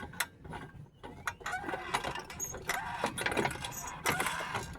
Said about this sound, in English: I put my jack right at that cross member.